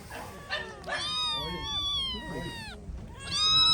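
Kittens at a Kyiv animal market meow in several drawn-out, rising and falling cries, loud and close, with faint background voices.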